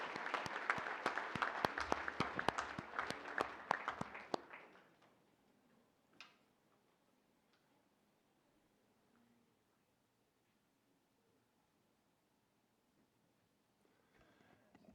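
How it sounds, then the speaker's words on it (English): Applause from the audience at a board meeting, a lively burst of many hands clapping for about four seconds before cutting off into near silence with faint room noise. "Another round of applause."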